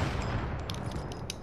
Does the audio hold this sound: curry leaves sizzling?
no